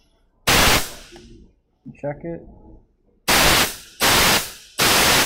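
Compressed air blasted into a clutch port on a transmission output drum: several loud, close bursts of hissing air, each about half a second long, separated by gaps, with a brief spoken comment in between.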